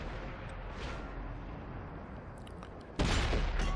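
A single heavy tank cannon shot booms out in a World of Tanks-style battle in a ghost town map, a sharp loud blast near the end over a dense rumbling battle backdrop.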